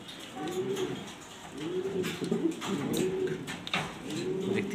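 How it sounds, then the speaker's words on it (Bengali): Black Danish pigeons cooing close by, repeated rolling coos in a steady rhythm over a faint background hiss, with no talking. "এখন দেখাবো ব্ল্যাক কালারের ড্যানিশ কবুতর।"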